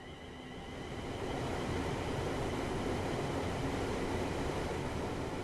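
A Class 350/1 Desiro electric multiple unit rolls along the four-track West Coast Main Line in Train Sim World, a steady, loud rumble and hiss that swells over the first second and then holds evenly.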